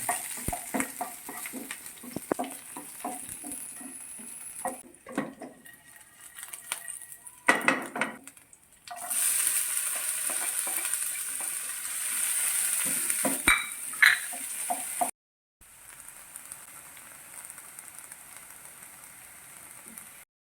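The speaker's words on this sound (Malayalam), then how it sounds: "ആദ്യം വെളുത്തുള്ളി ഇട്ടിട്ട് കുറച്ച് ചൂടാവട്ടെ" Garlic frying in a hot pan for a soya fry, a bright hissing sizzle that swells and drops as it is stirred, with scraping utensil and pan clatter in between, close and without talk.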